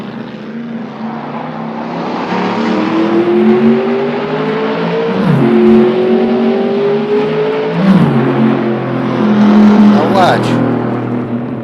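A 1971 Camaro Z-28 engine drones steadily while driving, its pitch rising and dipping through gear changes and revs, loud and close throughout, with someone briefly talking over it.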